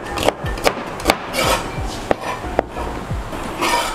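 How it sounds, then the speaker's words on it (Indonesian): Large green chilies are sliced diagonally with a knife on a wooden cutting board, giving about eight crisp, close-up chops in an uneven rhythm with faint scraping between strokes. "cabai hijau besar, ini kita iris serong."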